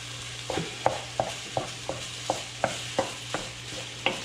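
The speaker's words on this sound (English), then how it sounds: "That's really a sizzle at this point." Ground meat sizzles and crackles in a hot pan, with sharp scraping taps of a spoon stirring and chopping at a steady rhythm.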